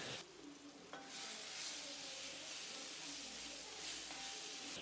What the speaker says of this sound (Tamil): 3 ஸ்பூன் மல்லி, 2 ஸ்பூன் வரமிளகாய், 1/4 ஸ்பூன் மஞ்சத்தூள் சேர்த்து நல்லா இந்த மாதிரி எண்ணெய் பிரிஞ்சு வர வரைக்கும் நல்லா வதக்கி எடுத்துக்கலாம்